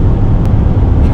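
An Audi RS e-tron GT accelerating hard on the Autobahn, a loud, steady low rumble of road and wind noise filling the cabin without a break.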